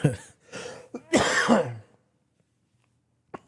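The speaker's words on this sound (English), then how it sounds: "I'm gonna cough now" A few harsh coughs and throat-clearing bursts, close and loud, followed by near silence and a short final sound.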